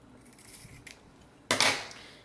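Scissors snip through a length of ribbon during a craft tag project, one sharp, close cut after quiet handling noises.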